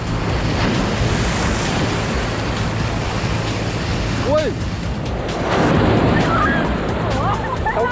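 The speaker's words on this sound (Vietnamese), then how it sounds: "ôi sóng to, sóng to," Big waves break on the beach at Sầm Sơn in early morning, a loud, continuous broadband surf wash that swells again toward the end, with a man's excited exclamations over it.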